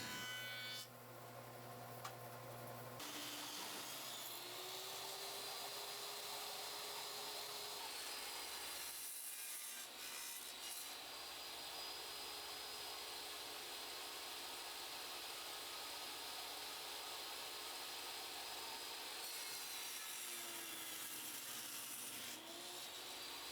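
Maple workbench leg pieces being dressed to size with a machine for a solid maple benchtop workbench, a steady loud whirring cut running almost continuously, briefly dipping midway and easing near the end, with no talking.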